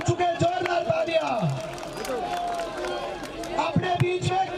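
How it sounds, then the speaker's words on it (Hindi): Large outdoor crowd at a political road show cheering, whooping and clapping in rolling bursts, with shouts and a loudspeaker announcer's voice booming over the din. "जोरदार तालियां"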